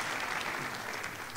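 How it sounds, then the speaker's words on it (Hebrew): Audience applause at a conference in Rishon LeZion, a dense, steady wash of many clapping hands sustained at an even level throughout, with no talk over it. "זה המקום למחיאות כפיים."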